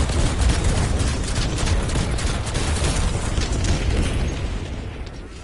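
A loud explosion in Call of Duty Black Ops 4 zombies booms and rumbles over several seconds with crackling bursts, slowly fading toward the end.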